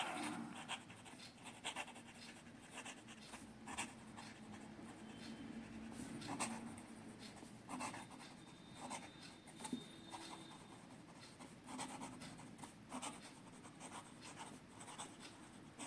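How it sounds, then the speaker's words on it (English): A Parker Frontier fountain pen in matte black with chrome trim writes fast across paper, a close, soft continuous scratching with quick rhythmic strokes throughout. "Now some fast writing."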